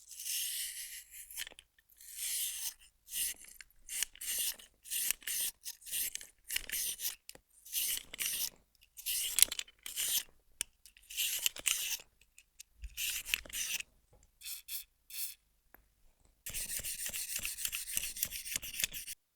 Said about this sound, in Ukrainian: для чистки газової трубки я буду використовувати ось цей йоршик, який задуманий для чистки патронника R15